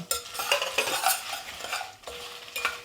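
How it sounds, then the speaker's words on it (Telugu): Coriander seeds and red chillies roast dry in a pan, with a run of short, close scraping and rattling stirs in uneven strokes and no voices. "ఇది కూడా అందులో బాగా రోస్ట్ చేసుకొని, బాగా అంటే జస్ట్ లైట్గా."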